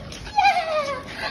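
A dog gives a short, high whimper that slides downward, close and clear, over a quiet indoor background.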